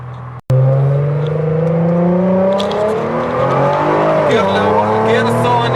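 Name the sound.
Nissan GT-R R35 accelerating hard during test drive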